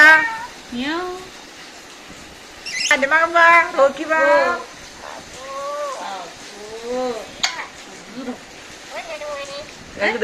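A pet parrot imitates a cat's meow in a string of short, rising calls with pauses between them, heard close and clear amid a lively run of other mimicked vocal sounds.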